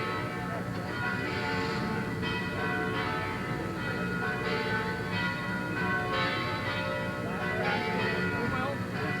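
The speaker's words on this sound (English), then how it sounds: "The bells of the Mishal tolling." The Santa Barbara Mission church bells toll steadily, with rich overlapping rings that keep sounding throughout. A faint murmur sits underneath.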